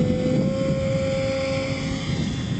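The electric motor of an RC foam plank plane at about half throttle, carrying a steady, loud whine and a clear tone that holds level, with wind rush against the microphone and no talking.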